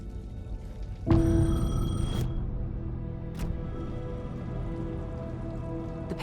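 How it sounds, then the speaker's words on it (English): In Alan Wake 2, a payphone rings out in the rain with one long electric ring and a brief second burst, over a steady hiss of rainfall and dripping water. "The payphone was ringing."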